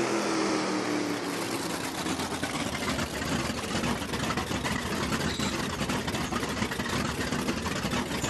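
A drag racing car engine in a video game with a supercharged blower idles roughly and continuously, a steady mid-pitched rumble with faint pulsing texture that holds at constant loudness throughout.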